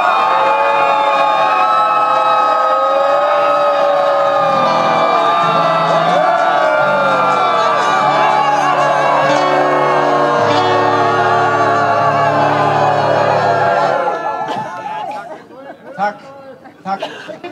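A loud outdoor crowd at a climate rally shouts and cheers together for over thirteen seconds, a sustained roar of many voices that cuts off abruptly, leaving scattered fainter voices.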